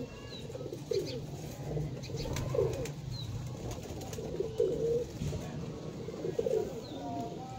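Rooftop pigeons give low, rolling coos in a slow repeating rhythm, about four phrases spaced evenly apart, moderately close over faint ambient noise, with no talking.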